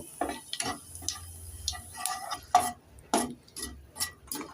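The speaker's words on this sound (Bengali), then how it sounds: "এক সেকেন্ড ফোড়নগুলোকে ভেজে নেব" Whole dry chilli, cumin, a cinnamon piece and cardamom pods frying in a little oil for a brinjal-potato curry, heard as short sizzling bursts and spatula scrapes in an irregular rhythm, close and moderately loud, with no talking.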